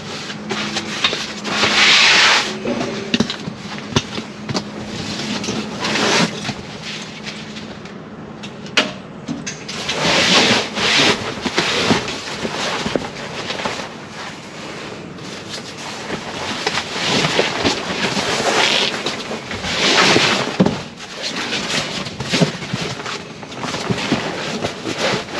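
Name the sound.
ripping out bedding, fitting Drifta self-inflating mattress in rooftop tent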